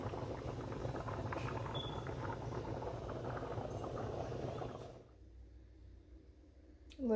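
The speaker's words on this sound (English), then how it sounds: "the background that you hear is water boiling with brown rice" A pot of water boils with brown rice on a kitchen stove, a low bubbling rumble that runs steadily and then drops away to a quieter hum near the end, with no voices over it.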